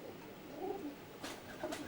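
Racing pigeons coo softly at a loft, a low murmuring call with two brighter bursts near the end, faint and close over quiet background.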